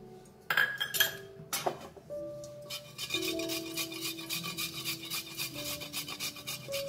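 Fresh ginger grated on a metal grater, with a run of quick rhythmic rasping strokes after a few clinks and knocks of kitchen utensils, close and clear, with no talk.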